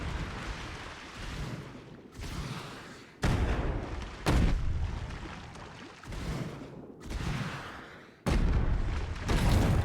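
Heavy artillery booms in the sci-fi strategy game Anno 2205, several loud blasts at irregular intervals, each a sharp hit that rumbles off before the next shot.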